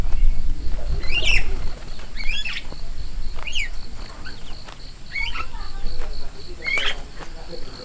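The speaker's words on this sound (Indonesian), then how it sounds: "Banyak merpati." Pigeons flutter and coo amid outdoor ambience at a campground in Bogor, with bursts of wing flapping and a few chirps over a low background rumble.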